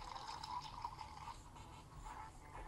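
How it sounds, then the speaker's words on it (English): Water pouring from a tap into a soup pot in a VR cooking game, a faint, steady filling trickle that runs on throughout. "they all start with putting some water in the pot"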